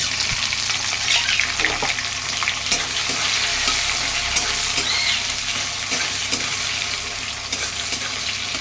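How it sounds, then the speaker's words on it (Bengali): Onions fry in hot oil over cumin seeds in a pan, a steady close sizzle broken by the scrape and clatter of stirring throughout, with no talking. "পেঁয়াজগুলোকে আমি লাল লাল করে ভেজে নিচ্ছি।"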